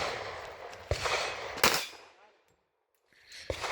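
Pistol shots from a 1911 on an outdoor shooting stage, a few sharp cracks spaced apart, with a brief quiet gap before another shot.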